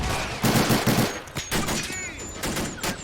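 Battlefield gunfire in the WWII game Men of War: Assault Squad 2 during a Banzai charge on US Marines at Saipan, 1944: loud dense bursts of shots and rattling fire over a constant combat din.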